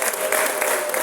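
Guests at a Rwandan wedding give the groom a brief burst of lively clapping from a crowd, steady and fairly loud for about a second.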